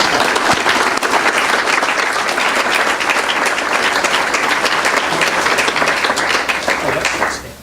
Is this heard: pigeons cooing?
no